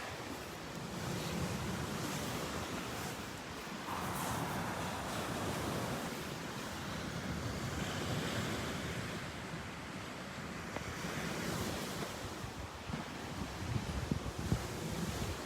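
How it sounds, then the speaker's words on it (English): Ocean waves breaking on a shore: continuous loud rushing surf with steady wash and rumble, mixed with wind buffeting the microphone, with no speech. "Let me get a different spot here so we can see the waves."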